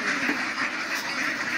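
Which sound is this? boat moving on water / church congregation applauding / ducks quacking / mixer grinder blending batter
ducks quacking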